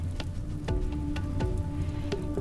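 Rain falls in the RimWorld video game as a steady, dense hiss with occasional sharper taps recurring every half second or so. It stays even and moderately loud throughout, with no voices.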